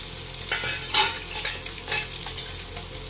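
Green mango pieces go into a fish curry in a clay pot with ghee, with a close, loud sizzling bubble and a few scraping stirring strokes over about three seconds.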